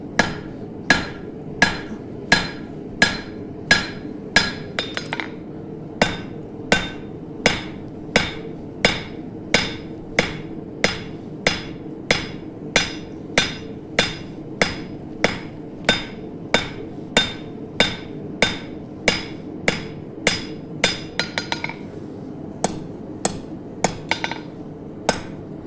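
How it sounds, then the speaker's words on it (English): A blacksmith strikes hot iron on an anvil while forging a baroque finial, a long run of loud, evenly spaced ringing hammer blows close by, with a short flurry of quicker taps partway through. "So I'm gonna go to the anvil, Jess."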